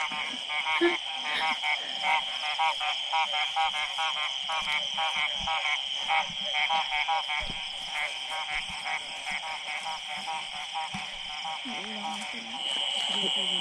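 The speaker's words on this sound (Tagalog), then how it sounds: "Tinatawag na kami ng mga palaka." Dense, continuous chorus of native frogs croaking in the Philippine countryside, loud and rhythmic, with people talking briefly over it.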